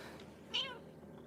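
A single short meow from one of several pet cats, Shadow, Spot and Tabby, close by at feeding time, rising briefly over a low steady household hum.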